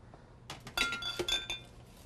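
Dirty dishes are stacked in a kitchen, a quick cluster of sharp glassy clinks and clatters close by, with no talk.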